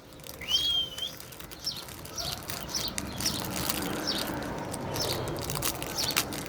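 Birds chirp and call outdoors on a hot day, repeated short tweets and one longer whistle-like call at moderate distance over a steady background hiss, with no talking.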